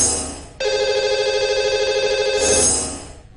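An outgoing telephone ring tone sounds loudly for about two seconds during a call to a radio-show caller, a steady electronic trill that stops abruptly and is followed by a short fading tail.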